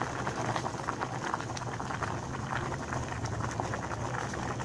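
Water with herbal leaves boils steadily in a pot, a close, continuous bubbling and simmering hiss with no talk.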